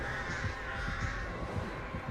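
Crows caw repeatedly in a video game, a steady run of harsh, rhythmic calls about every half second over a constant droning game soundtrack.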